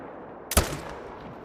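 One sharp, loud hunting rifle shot from theHunter: Call of the Wild cracks out of quiet ambience and trails off in a short rumbling echo.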